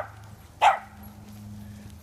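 A dog on a morning walk gives a single sharp bark, fairly close, over low background hum.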